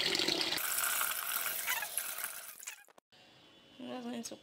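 Wash water from soaked millet for pap is poured out in a splashing stream that runs for about three seconds and then stops abruptly. A voice follows briefly afterward.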